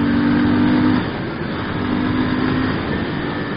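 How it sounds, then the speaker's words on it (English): A 2016 Moto Guzzi V7 Stornello twin-cylinder motorcycle with shaft drive running at full throttle, a loud steady engine drone that drops slightly in pitch and level after a second. "That's full throttle."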